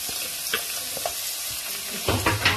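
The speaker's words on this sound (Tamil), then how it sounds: "ஆனியனே ஆட் பண்ணி ஆனியனும் இந்த பச்சை வாசனை போற அளவுக்கு 2-3 நிமிஷம் நல்லா ஃப்ரை பண்ணிக்கோங்க" Onions frying in a pan, a steady broadband sizzle with soft spoon scrapes and clicks through the middle, growing louder and busier near the end.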